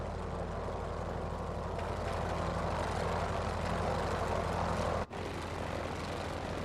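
In a flight video game, a loud aircraft engine drones steadily with the canopy open, a dense continuous roar that cuts out abruptly for an instant before resuming.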